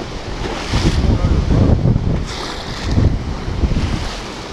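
Waves slap and surge around a fishing boat on a river near bluff ledges while fighting a big flathead catfish, loud rolling washes mixed with gusty wind noise at close range.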